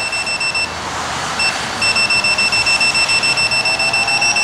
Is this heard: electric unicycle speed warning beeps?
yes